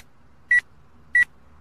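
A coffee maker signals that brewing has finished with two short, evenly spaced electronic beeps, clear against a quiet room.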